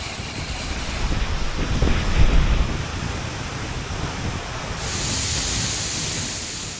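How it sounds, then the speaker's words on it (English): Seljalandsfoss, an Icelandic waterfall fed by glacial meltwater, roars as a steady, broad rush of falling water, loud and close, with wind buffeting the microphone and no voices. "Seljalandsfoss doesn't just feel like a waterfall, it's an experience."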